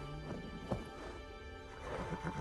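A horse in the video game Ghost of Tsushima gives short neighs and snorts, with hoof clip-clop mixed in, fairly quiet against a steady background.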